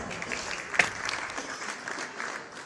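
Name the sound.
applause for a woman in the hall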